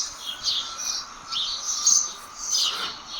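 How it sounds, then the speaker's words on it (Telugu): Birds chirp on a quiet, pollution-free early morning during the Bhogi festival, with bright repeated calls rising and falling in several bursts over a faint background, fairly near and with no talk. "మీరు కూడా వినండి బర్డ్ సౌండ్స్ని."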